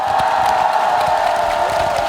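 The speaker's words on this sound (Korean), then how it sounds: "여러분들 뜨거운 박수를 보내주십시오" Concert crowd at the Mungyeong apple festival in Korea cheering and applauding steadily for a singer's set, a dense continuous roar of voices and claps with high whoops on top.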